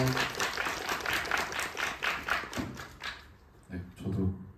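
Dense, steady clapping from an audience at a Korean film screening Q&A fills the first few seconds, then fades as a voice begins talking.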